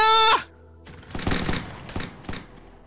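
A shouted command gives way to a ragged musket volley in a Battle of Bunker Hill game, several close, sharp shots cracking out unevenly over about two seconds.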